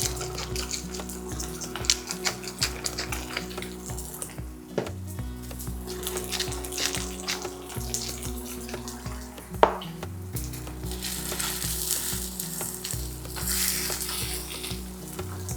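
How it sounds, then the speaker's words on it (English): Thin pollock fillets frying in a pan with salt and pepper, a steady, close sizzle with crackling spikes and occasional scrapes as they are pressed flat. "And I'm just pressing them down just because they want to curl up, so I'm just keeping them flat."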